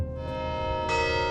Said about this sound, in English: Along with the sound of the Saint Francis Cathedral bell in Santa Fe.